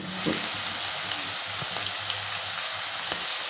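Mustard seeds, chana dal, onion and chilli fry in hot oil with a dense, steady sizzle and faint crackles throughout, close and fairly loud.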